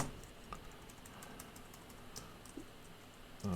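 Faint, quiet computer keyboard typing in a coworking session while working on JavaScript code, with light scattered key clicks at an irregular pace and a slightly louder knock near the end.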